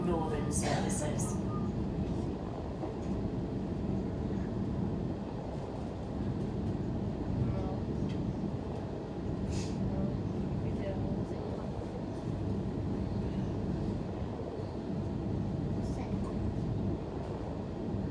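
A Sydney suburban train runs between Sydenham and Redfern, a steady low interior rumble and rolling noise throughout, with a few brief high squeals and clanks near the start and middle.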